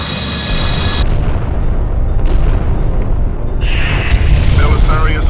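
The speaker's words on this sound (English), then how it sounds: "Gunnery control, open fire." Heavy booms and rumbling explosions from ship gunfire in the space combat game Freespace 2 fill the sound continuously, loud and dense, with shifting bursts of higher crackle and tonal effects layered over them.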